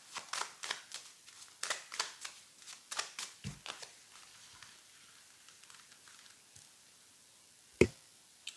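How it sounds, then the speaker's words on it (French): Tarot cards are shuffled and dealt out in a quick run of soft riffling flicks, then quieter placements and one sharp tap near the end, faint and close. "Allez, j'ai posé les 15 cartes."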